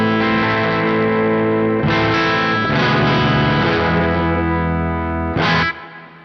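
A loud, heavily distorted signature electric guitar in drop D tuning rings out in sustained chords, with a few fresh strums and a final chord cut short.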